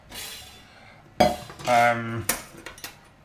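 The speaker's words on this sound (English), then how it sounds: "Put your pan on top" A cooking pan set down on a small portable camp stove from a grab-and-go prepper bag gives a few sharp metallic clinks and a ringing clatter, close and fairly loud, with quiet handling noise around it.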